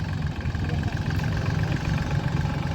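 A Solis 26XTRA compact tractor's Mitsubishi diesel engine idles steadily with a low, even rumble throughout, close by and fairly loud.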